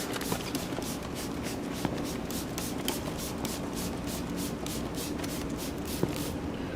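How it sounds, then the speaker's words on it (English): Steady hiss of a spray nozzle spraying disinfectant on sports equipment, with repeated short bursts and faint shuffling movement, fairly close and continuous. "You're spraying each one of the areas."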